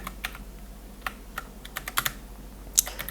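Typing on a computer keyboard, a quiet run of uneven key clicks with a few sharper taps, close and alone over faint room hum.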